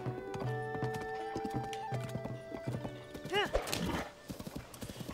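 Horses pulling a wagon in Zelda: Tears of the Kingdom give steady clip-clop hoofbeats with a whinny midway, under background game music at moderate volume.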